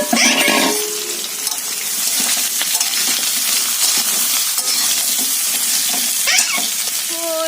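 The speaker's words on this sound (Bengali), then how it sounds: "এদিকে পেঁয়াজ আর উচ্ছে ভাজা করছি" Steady sizzling of onions and bitter gourd frying in a pan, with occasional stirring scrapes and a few faint background noises.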